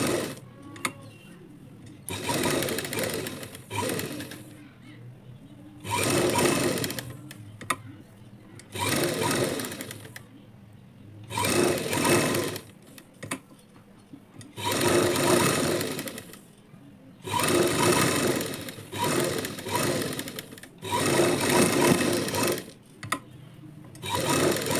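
A sewing machine runs in repeated bursts, each a few seconds of steady, loud whirring stitching, separated by short quiet pauses, while blouse lining is sewn to the main fabric.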